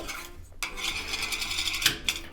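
A snug aftermarket cover is pulled off a Toaks 750 ml titanium pot, giving a short metallic scrape and rasp, then a bright clink near the end, close and fairly loud.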